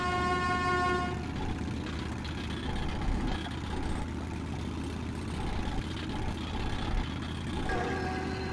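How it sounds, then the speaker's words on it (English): A vehicle horn in the video game Metro Redux sounds in a long sustained blare over a rumbling engine, fading midway and returning near the end. "I can honk the horn."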